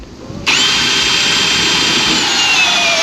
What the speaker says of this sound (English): I've gone to the drill and then just hit it